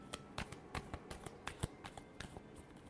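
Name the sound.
shuffling tarot cards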